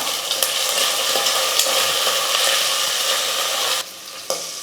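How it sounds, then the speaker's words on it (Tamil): A large onion and a handful of green peas sautéing in a pan with bay leaf, a loud, close, continuous sizzle that abruptly drops away near the end, followed by a brief clatter. "ஒரு பெரிய வெங்காயம் ஒரு கைப்பிடி அளவு பச்சை பட்டாணி இதையும் சேர்த்து நல்லா வதக்கிக்கலாம்"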